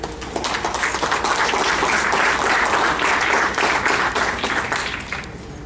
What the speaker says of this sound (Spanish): por favor, le vamos a dar nuestros fuertes aplausos.